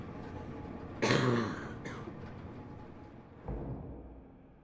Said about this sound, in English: Sorry, I was coughing a bit.